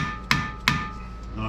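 Two soft hammer blows on the front brake hub of a K5-K10 truck, sharp close metallic knocks about a third of a second apart, followed by a quiet pause.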